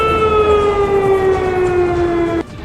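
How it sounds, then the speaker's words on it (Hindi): An air raid warning siren sounds after bomb explosions, a loud, sustained wailing tone that slowly drops in pitch before cutting off abruptly near the end, leaving faint background noise. "धमाका होते ही खतरे का सायरन बजाकर लोगों को अलर्ट कर दिया गया।"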